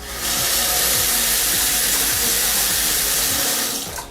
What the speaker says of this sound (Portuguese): E aí eu quero que vocês reparem também nessa torneira